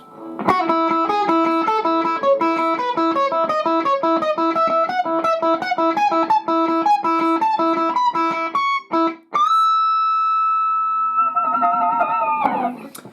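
An electric guitar riff chugs through rapid picked notes, then ends on a long sustained string bend before a last muffled strum.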